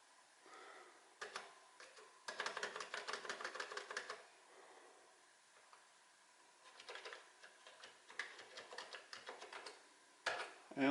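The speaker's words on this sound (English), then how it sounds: "Just making sure the keyboard works." Someone types on a Commodore 64 keyboard, producing bursts of quick, clacky key presses. Pauses separate the runs of strokes, and the keys sound fairly close but soft, with no voice over them.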